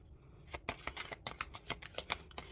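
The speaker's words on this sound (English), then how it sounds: "this deck I'm shuffling is the Ask Your Guides Oracle card" An Ask Your Guides oracle card deck being shuffled by hand, a quick run of crisp papery riffles and flutters close up, with no talking.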